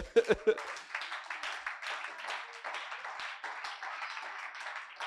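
Congregation at a church service clapping to acclaim the Lord: a few sharp claps open, then sustained, fairly even applause from many hands, moderately close.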